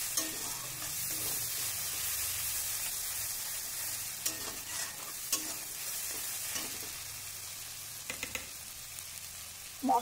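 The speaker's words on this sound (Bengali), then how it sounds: "এই মশলাটাকে ভালো করে কষিয়ে নিচ্ছি।" A spice paste with turmeric and chilli powder fries in a pan under a continuous close sizzle. A few sharper stirring scrapes and pops break through now and then, and no one speaks.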